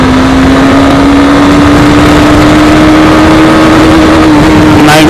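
A Honda Hornet 2.0 motorcycle accelerates in third gear, its engine holding a steady, slowly rising drone throughout, loud and close, with rushing wind noise over it.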